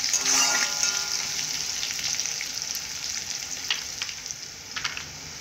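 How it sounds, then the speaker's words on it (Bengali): Peeled ginger and garlic frying in a pan, with a bright, hissing sizzle that is strongest at first and gradually softens, plus a few light stirring taps, close and fairly quiet with no voices. "তার সঙ্গে আদা রসুন ছিলা, এভাবে ভালো করে ভেজে নেব।"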